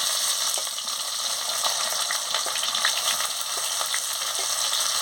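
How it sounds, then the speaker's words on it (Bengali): Chopped onion sizzles with garlic paste in a hot pan for a Bengali cauliflower curry. The frying hiss is steady and close, broken by the occasional scrape of stirring, and no one speaks. "এবারে পেঁয়াজ কুচি দিয়ে দিচ্ছি"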